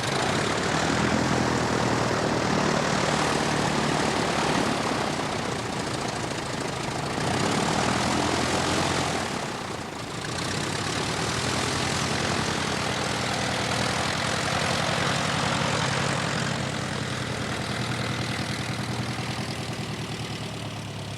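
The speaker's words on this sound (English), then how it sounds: "This small trainer is very different from the buccaneers Dave is used to." A small trainer aircraft's propeller engine drones steadily in flight, loud and continuous throughout, with a brief dip in the engine note partway through.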